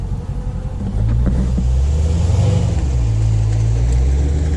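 A Dodge Charger police car engine rumbles low and close, swelling into a deeper, louder rev after about a second and holding a steady throaty drone, with no voices.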